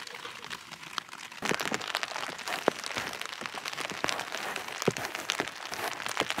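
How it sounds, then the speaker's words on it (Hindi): Rain pattering on a tent during overnight camping near Sach Pass in India, a dense close crackle of drops with sharper individual hits, growing heavier after the first second and continuing steadily. "अब बारिश फिर से शुरू हो गई, आपको आवाज़ आ ही रही होगी टेंट के ऊपर"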